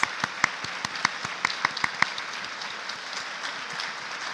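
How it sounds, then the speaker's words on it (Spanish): Applause from those present at a cooperative tribute ceremony, a few crisp claps standing out in the first two seconds before fading into soft scattered clapping and room murmur. "además de recibir el aplauso de todos los presentes"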